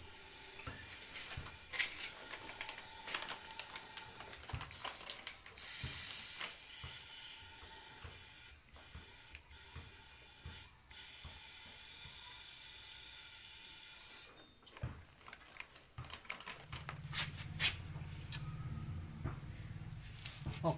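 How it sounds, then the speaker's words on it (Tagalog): A steady hiss of compressed air blows old oil out of a Rusi Macho 175 motorcycle engine during an oil change, with short bursts and pauses and a low rumble near the end. "Bugahan natin yung compressor para totally matanggal yung oil niya."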